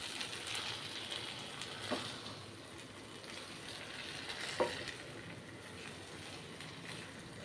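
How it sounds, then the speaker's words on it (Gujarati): Green chickpea pulao cooking in a pot on a medium gas flame, a soft continuous sizzle with an occasional faint clack, steady and moderately quiet with no voices. "દસ થી 15 મિનિટ આપણે આને મીડિયમ ગેસ ઉપર પાકવા દઈશું"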